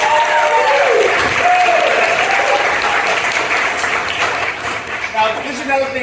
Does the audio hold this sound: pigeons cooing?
no